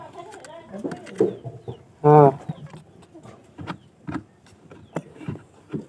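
Domestic pigeons in a coop give soft cooing calls along with one louder, brief harsh call near the middle, with fluttering and shuffling around them and someone talking nearby.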